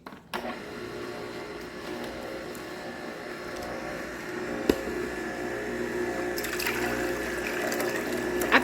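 Fresh watermelon juice with mint is poured in a kitchen, a steady liquid stream heard near alongside the hum of a Nama J2 juicer, with a faint clatter at the end.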